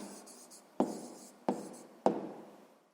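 Pen writing down a maths answer on paper, soft scratchy strokes with three sharp taps as marks are made, close and quiet.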